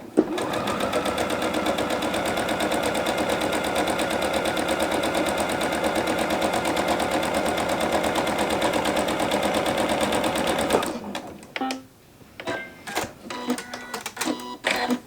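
A home sewing machine runs a steady, fast stitching whir while sewing a straight quarter-inch quilt seam on jelly roll strips, continuous and close for about eleven seconds before stopping. Scattered clicks and handling noises follow.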